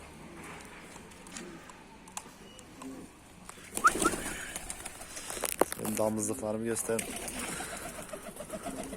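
Adana pigeons, breeding and flying birds kept in a loft, coo in low murmurs beneath someone talking close by, with rustling and a few wing or foot sounds.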